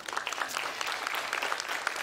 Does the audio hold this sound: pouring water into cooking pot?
no